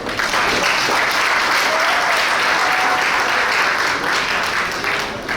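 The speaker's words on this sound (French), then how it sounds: "Applaudissez en ce moment." Sustained, dense applause from a seated crowd at a civil wedding ceremony, steady and loud for the whole stretch with faint voices underneath.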